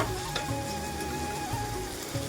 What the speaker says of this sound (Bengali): চালটা দিয়ে একটু ভালো করে মানে বেশ খানিকক্ষণ নাড়াচাড়া করতে হবে